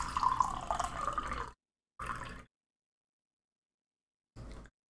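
Water gurgles and splashes in The Witcher 2: Assassins of Kings, a long burst then two short ones, cleanly separated by silence.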